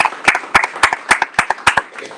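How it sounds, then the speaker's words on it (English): A workshop audience on migration and work rights applauds the organizing team, with sharp, distinct claps rising and falling in quick bursts, close and fairly loud, from what sounds like a modest group. "a big round of applause to the whole team that made it happen"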